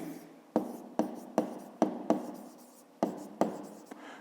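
Pen strokes on paper during a grade 5 maths exercise, a steady series of sharp scratchy taps about every half second, close and alone.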